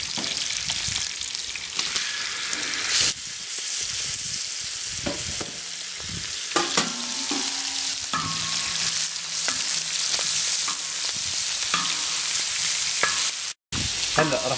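Lamb offal sizzles and fries in a pan over a wood fire, a continuous loud crackling hiss with occasional stirring scrapes and clinks.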